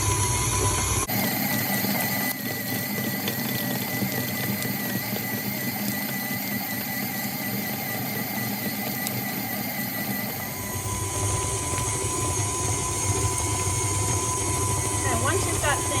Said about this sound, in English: So I've turned it on low. Now I'm going to crank it until it gets faster.